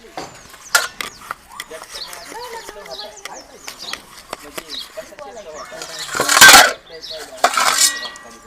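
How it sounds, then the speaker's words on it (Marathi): Dishes and pots clink and scrape while being scrubbed near a tub of water, mixed with close chatter, then a louder splashing rush of water near the end. "म्हणजे टबात ओतायला भांडी घासतो"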